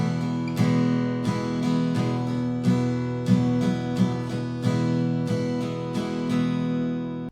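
Acoustic guitar strums a chord line, steady rhythmic strokes ringing clearly and close, with no voices.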